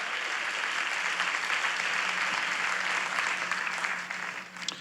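Church congregation applauding during a bilingual Hindi-English worship service, a steady, dense wash of clapping that holds for several seconds before tapering off near the end.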